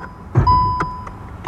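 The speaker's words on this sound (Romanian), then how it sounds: "Și să auzi bipăitul ăla, evident, dacă motorul e pornit." A sustained electronic warning tone inside a 2024 Skoda Octavia with the engine running, sounding when the hood is opened, steady and fairly clear, with a few soft clicks and thumps around it.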